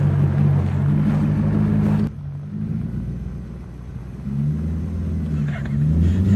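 A one-wheel-drive drift car on worn drift tires strains through snow at -15 degrees, its low engine rumble droning steadily, dipping briefly, then building again as it barely moves forward.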